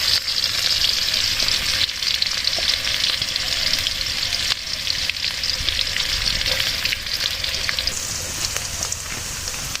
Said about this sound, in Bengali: আমাদের ভর্তা করার জন্য পেঁয়াজ আর মরিচ ভাজা হচ্ছে তেল দিয়ে